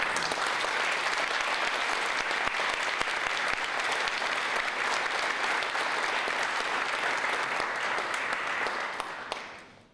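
Sustained applause from an audience at a Macklin Business Institute philanthropy celebration honoring a family, steady and dense for about nine seconds before tapering off quickly at the end.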